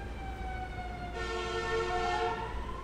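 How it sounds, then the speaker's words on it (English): A distant siren wails steadily with sustained tones, faint against a low background rumble. "Can you hear that? Sirens?"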